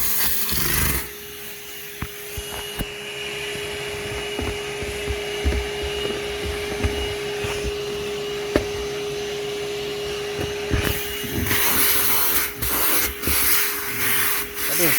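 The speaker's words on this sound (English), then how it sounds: "this is a little half of a plug vacuum that she has that will pick up a little bit of stuff" A small plug-in corded handheld vacuum runs steadily with a droning motor whine, briefly cut off and restarted, set against a Ridgid dual 18-volt vacuum comparison.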